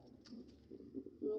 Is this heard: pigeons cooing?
yes